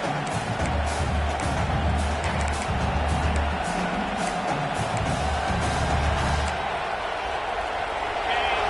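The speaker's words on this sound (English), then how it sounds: "The crowd getting behind this defense as they try to get a stop in the red zone." A stadium crowd at a college football game roars steadily for the defense in the red zone, a dense, loud wash of cheering with commentary over it.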